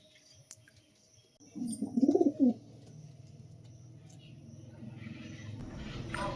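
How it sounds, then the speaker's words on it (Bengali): Pigeons in a small home loft, a close, fairly loud burst of throaty cooing around the middle followed by quieter rustling, fluttering and faint background noise. "ছোট্ট লফটের অল্প কিছু পায়রা।"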